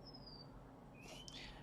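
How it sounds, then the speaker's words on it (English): Faint whistling bird calls: a thin sustained whistle at the start, then brighter chirping notes near the end, heard alone against quiet indoor background. "Oh, that whistling bird is back again."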